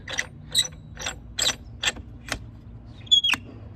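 A Rotopax mount being tightened onto an expedition handle with a fuel jug, giving a handful of separate crisp ratcheting clicks in short strokes, close and clear with quiet gaps between.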